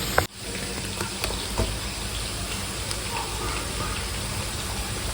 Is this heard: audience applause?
no